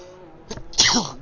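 A single sharp sneeze, close and loud, preceded by a short sharp intake of breath.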